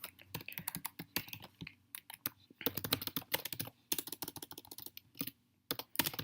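Code is typed on a computer keyboard, a steady run of close, crisp key clicks in uneven bursts with short pauses between them and no talking.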